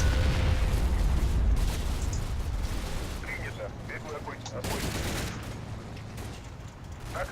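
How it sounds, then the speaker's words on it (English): A T-34 tank firing shots into the side of a German Panther in the Combat Mission Red Thunder war game, heavy booming blasts and rattling fire amid a busy battle din, with a voice talking over the noise. "It drives straight up to the Panther and whacks its shots in its side"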